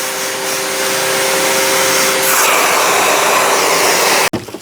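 A Giraffe Tools retractable vacuum cleaner runs loud and close, a steady whooshing roar with a faint whine early on, then cuts off abruptly near the end.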